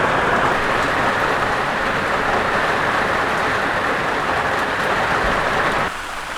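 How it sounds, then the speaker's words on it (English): Loud autumn rain in rural Portugal at an off-grid homestead, a dense, steady roar of heavy downpour that fills the whole clip, easing slightly near the end, with no talk. "this rain is getting so loud"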